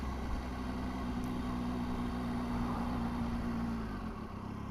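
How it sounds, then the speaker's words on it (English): A 2018 Triumph Tiger 800 XRT motorcycle cruises in second gear at about 25 mph, a steady moderate engine drone with a clear humming tone under wind rush, heard from the rider's position, no voices. "here I'm doing sort of 25 in second gear"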